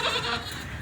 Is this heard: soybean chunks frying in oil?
no